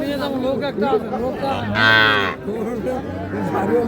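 Sahiwal bull calves low and moo at a busy cattle market, with one loud drawn-out bellow near the middle over a steady murmur of people talking and general market chatter.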